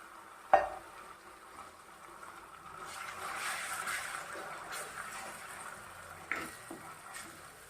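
Chili paste for Schezwan chutney sizzles in hot oil with ginger, a soft steady frying hiss that swells in the middle, with a couple of sharp utensil clinks against the pan.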